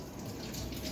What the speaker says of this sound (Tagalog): Ang hina pa ng tubig oh.